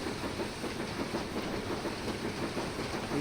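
A train simulator game on the Western Lines of Scotland runs at full speed, giving a steady, dense rumble of wheels on rails with faint rhythmic clatter and no break.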